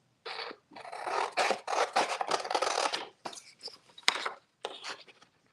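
Big scissors cut through cardstock during card making, a series of close crisp snipping and rasping strokes in short bursts with brief gaps, fairly quiet, with no talking.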